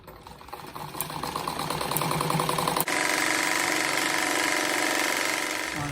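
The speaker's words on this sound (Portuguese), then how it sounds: "passo uma costura toda a volta aqui para daí recortar" A sewing machine stitches all the way around the edge of a fabric scrap flower rug with a fast, steady mechanical chatter that runs continuously, briefly pauses, then continues at a slightly different pitch.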